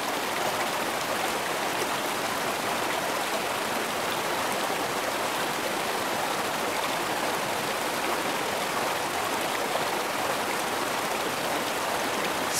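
A stream's flowing water rushes steadily and evenly, a dense unbroken wash of close, moderately loud water noise with no voices.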